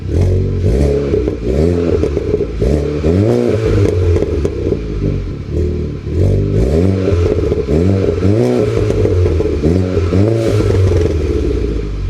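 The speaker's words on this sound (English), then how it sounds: "let's get a few little revs and maybe a few burbles" Loud, close engine of a Volkswagen Polo GTI revving repeatedly, rising and falling in pitch, with crackling exhaust burbles between revs; no speech.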